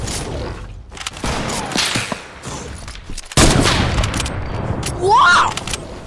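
Gunfire in an online shooter video game crackles in several quick bursts and single sharp shots, loud and close, mixed with excited players talking over it.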